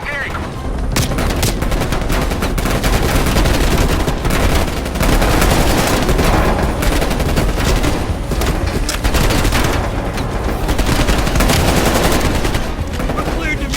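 Sustained automatic gunfire from Call of Duty: Black Ops Cold War fills the scene, dense, loud bursts rattling continuously with explosive booms mixed in and occasional shouted voices.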